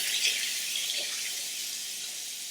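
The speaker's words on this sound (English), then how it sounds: "Put some cold water in there." Water runs steadily from a tap into a pot, a constant hissing splash with no pauses.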